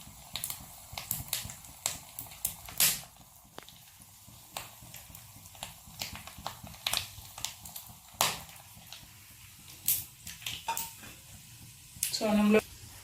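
Whole black peppercorns spluttering in hot oil while tempering spices for rava dosa, giving scattered sharp pops and crackles over a low, steady background hiss.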